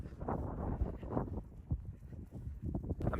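Low, rumbling gusts of winter wind in Britain buffet the microphone in uneven bursts, muffled and boomy, with no talking.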